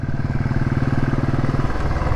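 Royal Enfield Classic 350 motorcycle cruising at high speed in third gear, its single-cylinder engine giving a loud, steady thumping drone with rhythmic pulses and wind rush, no voices.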